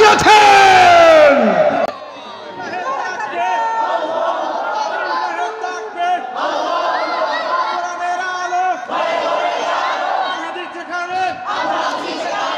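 A large crowd at an outdoor rally roars a takbir chant of Allahu Akbar in unison, a loud collective shout that repeats in swells across the clip.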